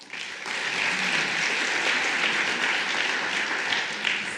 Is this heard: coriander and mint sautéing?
no